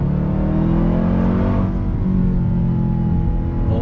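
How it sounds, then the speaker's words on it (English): A 2021 Dodge Durango Hellcat SUV accelerates hard in second gear, its supercharged engine roaring loudly and steadily from inside the cabin with no talk. "Second gear, hot throttle,"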